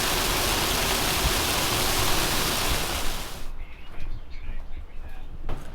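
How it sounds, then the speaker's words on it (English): Heavy rain pours steadily as a loud, dense hiss for about three seconds, then cuts to a quieter background with scattered drips and faint knocks. "It is raining a lot."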